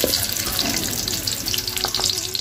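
Onions going into hot oil for a pork curry crackle and hiss in a steady, loud sizzle that holds from start to end, close by, with no talking.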